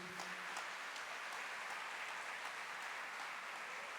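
Sustained applause from a church congregation, a dense wash of clapping that stays steady throughout without pause.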